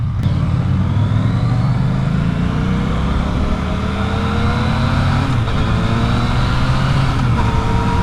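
A Yamaha FZ-09 (MT-09) motorcycle engine drones loudly while riding, its pitch climbing and shifting through gear changes, with steady wind rush throughout.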